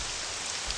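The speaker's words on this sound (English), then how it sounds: "oh, the rain sound effect is still going really well" Steady rainfall in the Morrowind video game, a continuous broadband hiss of falling rain on surfaces at an even level throughout, with no voices over it.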